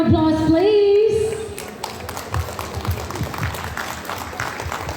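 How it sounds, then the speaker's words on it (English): A crowd at a global summit conference in the Philippines breaks into applause right after a voice finishes speaking, a dense patter of clapping lasting a few seconds at moderate distance. "Another round of applause, please."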